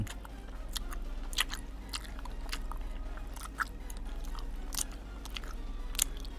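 Someone eats lava cheese tteokbokki, chewy rice cakes with melted cheese, close to the microphone, with a steady run of soft crunchy bites and wet chewing sounds over a low constant hum.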